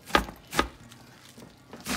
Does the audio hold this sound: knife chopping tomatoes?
yes